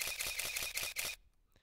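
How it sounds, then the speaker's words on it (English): A rapid burst of about nine camera shutter clicks used as a transition sound effect, crisp and evenly spaced, cutting off into near silence with a faint soft whoosh at the end. "So what I did is I added a basic shutter sound effect from a camera."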